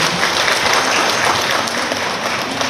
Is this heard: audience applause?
yes